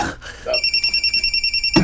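A mobile phone rings with a rapid, regular electronic trill of about a dozen pulses, loud and close, with brief voices at the start and end.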